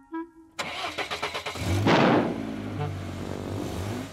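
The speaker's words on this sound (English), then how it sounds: "Let's have a nice loud rev." A cartoon excavator engine cranks with a quick series of chugs, then catches and roars into a loud rev before settling into a rumbling idle.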